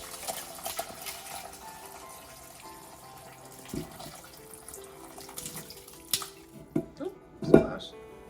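Chicken cooking liquid with vegetables for pozole verde being strained in a kitchen: a soft, continuous pour and trickle of liquid, then a few sharper splashes and clinks toward the end, with faint talk underneath.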